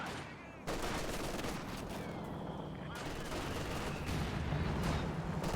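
Dense, continuous barrage of explosive artillery fire in the video game The Finals, a sustained roar of overlapping blasts and booms from start to finish, with a voice talking underneath.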